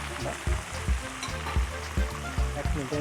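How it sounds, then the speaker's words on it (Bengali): Onion and capsicum fry in a pan for black pepper chicken fried rice, giving a loud, continuous sizzle with rhythmic scraping stirs about every half second, while a voice speaks briefly. "আমরা 1 মিনিট জাস্ট ভেজে নিচ্ছি।"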